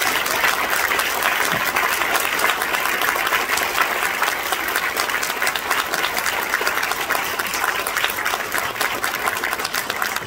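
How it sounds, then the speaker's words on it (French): Sustained audience applause for filmmakers Jean-Pierre Jeunet and Marc Caro at a screening Q&A of La Cité des enfants perdus, a dense, steady clatter of many hands clapping at close range for about ten seconds with no talk. "allez, on les applaudit encore un coup quand même"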